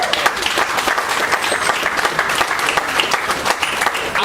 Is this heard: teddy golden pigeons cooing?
no